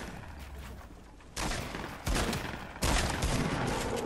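Gunfire in a Fortnite squads match, bursts of shots that grow louder in three steps, sounding fairly close and continuous with no talk over them.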